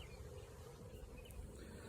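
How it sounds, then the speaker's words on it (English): A honeybee swarm gathered right beside the beehives makes a steady, faint insect hum with a low drone underneath, unbroken and with no voices. "sure enough, I have a swarm here"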